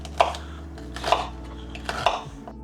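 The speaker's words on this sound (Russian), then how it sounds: "мы сейчас порежем на маленькие кубики" Three sharp knife chops cut rhubarb into small cubes on a cutting board at a slow, even pace, close and clear against a quiet background.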